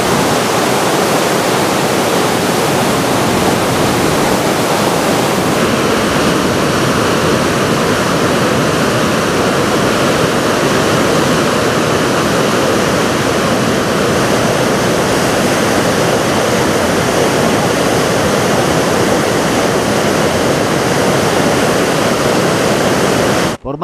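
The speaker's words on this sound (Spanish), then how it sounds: "Las aguas crecieron y sobrepasaron la plataforma y los cimientos de este puente." Floodwater from a river swollen by heavy rain rushes over a bridge's deck and foundations, a loud, continuous, dense roar of churning water that fills the scene without pause or voices.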